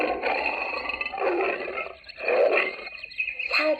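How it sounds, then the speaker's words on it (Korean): A tiger from an animal sound book roars in repeated growling bursts, three or four rough rumbling roars separated by brief pauses, close and fairly loud. "호랑이가 으르렁 으르렁 손을 들어"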